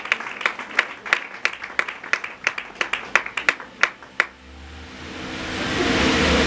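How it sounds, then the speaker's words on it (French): Scattered hand claps from a small audience at a community gathering, a dozen or so distinct sharp claps in loose rhythm, then fading into a steady wash of room noise. "Applaudissons, toujours sous les applaudissements"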